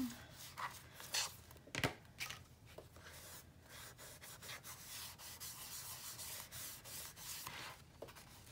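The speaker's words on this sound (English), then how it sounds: "Let's burnish that down." Paper being burnished down by hand on a mini album, close, quiet scratchy rubbing strokes in uneven bursts that settle into a steadier rub, with no talking.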